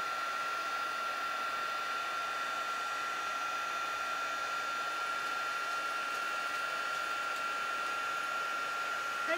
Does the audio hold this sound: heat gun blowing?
yes